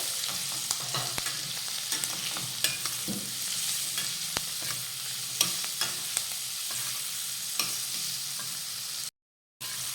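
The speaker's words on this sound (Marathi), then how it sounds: "आपण ही ढोबळी मिरची छान अशी तेलावर परतून घेतलेली आहे" Chopped bell pepper fries in hot oil as it is stirred in a pan: a steady close sizzle runs throughout, with scattered spatula clicks. A brief silence comes near the end.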